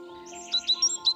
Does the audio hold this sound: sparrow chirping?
yes